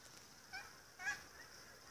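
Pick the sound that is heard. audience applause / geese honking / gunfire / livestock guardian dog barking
geese honking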